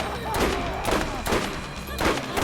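Sniper rifle fire in the Borderlands video game, several loud booming shots at a steady pace of about one every half second, with sound effects layered over a continuous game backdrop.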